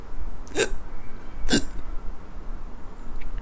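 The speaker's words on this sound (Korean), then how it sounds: "예민한 얘기라 딸꾹질이 좀 나와요." A person hiccups twice during a conversation, with two short, sharp catches about a second apart, close to the mic over a steady background hiss.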